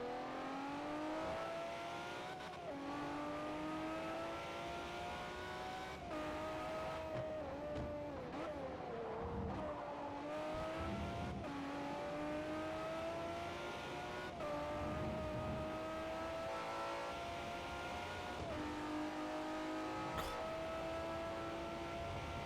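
A first-generation Lamborghini Murcielago engine in Forza Motorsport 4 drones and revs continuously, rising through gears with brief dips at shifts, steady and moderately quiet with no voices.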